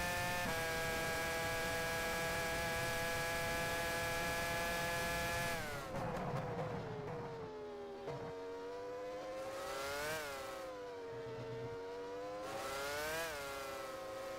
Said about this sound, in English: It sounds like the car's just not accelerating.